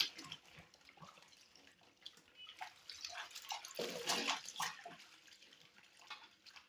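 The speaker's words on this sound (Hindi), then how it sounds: "हाथों से इसको मैंने भिगो भिगो के इसके अंदर रखना है, ताकि जो इसकी कपड़े की जो तहें हैं ना, इन तहों के अंदर भी पानी चला जाए" Clothes are soaked by hand in a tub of water, producing irregular soft sloshes, drips and splashes that swell and fade, fairly quiet and close, with no speech.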